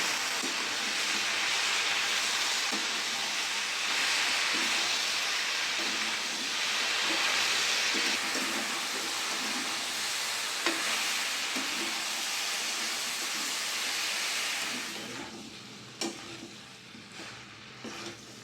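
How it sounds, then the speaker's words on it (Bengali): Chopped vegetables with tomato, slit green chillies and salt sizzle steadily in a pan for a shrimp vegetable curry, with a continuous hiss and occasional stirring clicks and scrapes, fairly close and alone. "এখানে টমেটো আর কাঁচা লঙ্কা চেরা আছে, দিয়ে দেবো। দিয়ে দেবো নুন। ভালো করে কষিয়ে নেব।"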